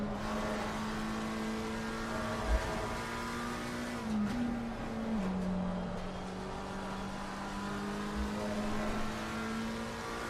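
Race cars run during a circuit race, with a steady engine drone, shifting pitch and occasional passing surges, heard at mid distance throughout.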